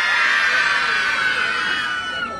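A group of children shouts together on a teacher's cue during a sing-along, a loud, sustained burst of high voices that swells at once and slowly fades over a couple of seconds.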